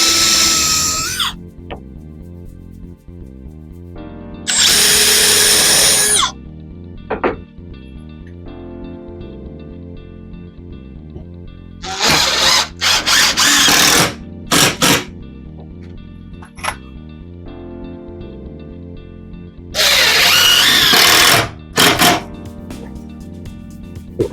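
A power drill driving screws into a wall stud in a basement, with several loud, close bursts of whirring motor lasting a second or two each, spaced apart, over a steady background hum.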